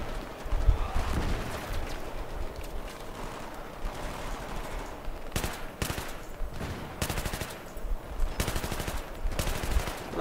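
Machine gun fire in the video game Battlefield 3, several sharp bursts of rapid shots cutting through a rumbling battle backdrop, with a few louder volleys in the second half.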